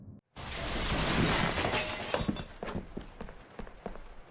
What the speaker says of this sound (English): more glass shattering is heard